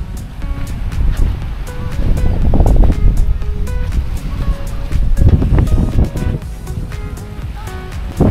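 Surf washing onto Ban Amphur beach in Pattaya at high tide, a steady broad wash that swells and eases in rolling surges, close and fairly loud, with faint tonal background sounds and no talk.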